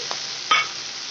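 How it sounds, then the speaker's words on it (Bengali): Chopped tomatoes drop into hot oil with a short, sharp sizzle burst, preceded by a faint stirring tap, then a low background hiss in a quiet kitchen. "আমি কুচি করে নিয়েছি, টমেটোগুলো দিয়ে দিলাম তেলের মধ্যে"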